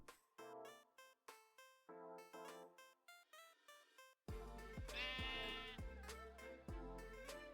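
Sheep from the Minecraft modpack Enigmatica 6 bleat repeatedly in short, choppy calls alone, then a louder layered game sound with low thumps carries on beneath further bleating.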